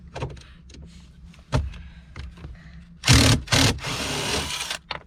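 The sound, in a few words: unscrewing screws in Porsche Panamera dashboard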